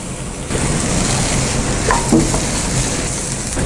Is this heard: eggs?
yes